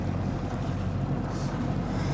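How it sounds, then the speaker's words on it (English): Gusty wind buffeting a sailboat at anchor in a fjord, a constant low roar with wind noise on the microphone and a slight hiss of water, heard alone. "at times there are gusty winds coming down from the mountain"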